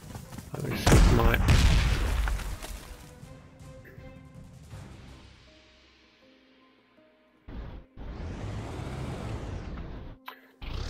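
Panzer Corps 2 battle effects: a heavy booming explosion with crashing debris that fades into a long rumbling tail, followed by another burst of gunfire and blasts, with a voice briefly heard.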